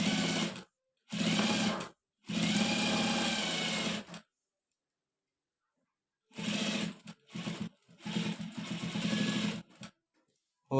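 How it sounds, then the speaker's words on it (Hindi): Sewing machine stitching the front placket of a kameez in several bursts: three runs, a pause of near silence, then more stop-and-start runs, close and steady. "फ्रंट पट्टी की सिलाई करनी है।"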